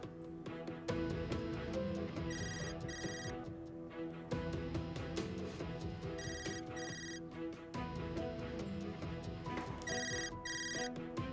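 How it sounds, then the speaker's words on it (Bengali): A mobile phone plays a melodic ringtone that loops with repeating bright electronic chimes, faint and steady with no voices over it. "এটা আমার বোনের ফোনের রিংটোন।"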